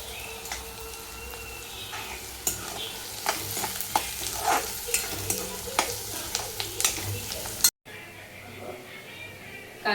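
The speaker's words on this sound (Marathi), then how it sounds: "कांदा आणि मिरची भाजली." Onion and chilli frying in a pan, a bright crackling sizzle with regular stirring knocks that cuts off abruptly, leaving quieter room sound after.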